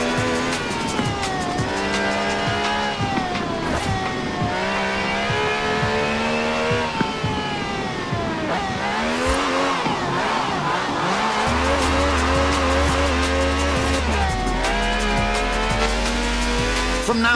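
A V12 car with over 750 horsepower in Forza Horizon 4 roars loudly and steadily, its engine pitch sweeping up and down through gear changes, with tire squeals, skids and a deep low drone near the end.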